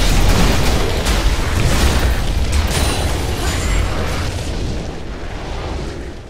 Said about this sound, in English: Your team has destroyed a turret